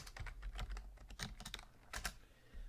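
Typing on a computer keyboard while working in an Excel spreadsheet: quick, irregular clusters of close, faint key clicks with short pauses between bursts.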